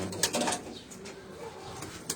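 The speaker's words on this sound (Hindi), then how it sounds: "ये लाल बादशाह कबूतर ने जी" Lal Badshah pigeons on a rooftop giving a short burst of soft cooing with some rustling and a faint wing flutter, quiet and close, with no talking.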